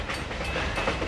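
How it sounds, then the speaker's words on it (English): Train in the movie Final Destination (2000), a brief, steady rumble of rolling rail cars with a faint high whine, heard alone. "I don't want to see him get hit by a train."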